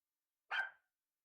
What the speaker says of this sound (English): We'll be able to hopefully take the background down from the dog barks